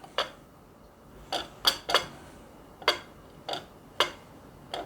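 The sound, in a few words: knife cutting a piece of cornbread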